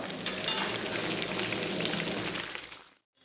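Apple beignets frying in hot oil give a steady, close crackling sizzle with scattered pops that fades out near the end.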